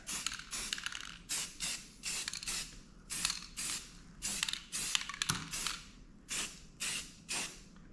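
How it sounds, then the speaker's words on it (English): A spray can coats a rifle in paint with repeated short bursts of hissing spray, each lasting about a second with brief pauses between, close and fairly steady. "Don't spray too much around here."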